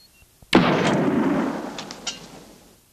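A single loud gunshot booms close by and rolls off into a long decaying echo, with faint ticks before the shot and no voices.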